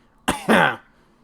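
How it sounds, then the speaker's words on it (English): A single person coughs twice in quick succession, a sharp short burst followed by a longer rougher one, close and clear against a quiet background. "you just cough."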